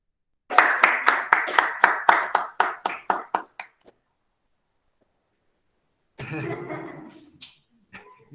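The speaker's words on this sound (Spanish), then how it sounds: "se escuchan los aplausos" An audience in an electroacoustics class session claps: a short run of a dozen or so sharp, evenly spaced hand claps that fade out, followed after a pause by a brief burst of muffled sound.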